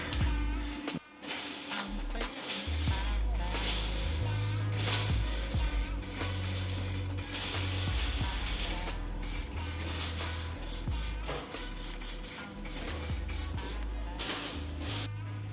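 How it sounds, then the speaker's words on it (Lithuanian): A sheet metal patch is welded onto a Subaru sill with bursts of harsh, close crackling and buzzing. Short pauses separate the runs, and a brief gap near the start breaks the otherwise continuous sputter. "prisikabinėjom ir apsivirinom viršų ir paskui reikės apačią"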